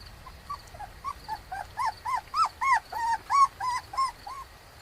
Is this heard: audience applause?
no